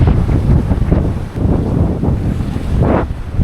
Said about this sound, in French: Mais il y a trop de vent là.